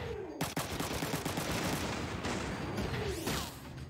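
Sustained gunfire in the mech game Front Mission 3 pounds at a wall, a dense continuous burst of rapid shots with a sharp gap near the start and heavy rumbling impacts throughout, loud and alone without talk.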